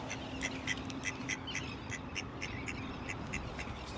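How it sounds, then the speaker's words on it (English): Ducks quack in a steady series of short, repeated calls, moderately close, over a constant low background hum. "What an odd place for ducks to hang out."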